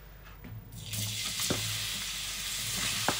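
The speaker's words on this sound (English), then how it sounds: "when you hear the little sizzling, you know that the oil is hot" Hot oil in a pot hisses into a loud, steady sizzle once the mince goes in, with a few clanks of the pot and no talking.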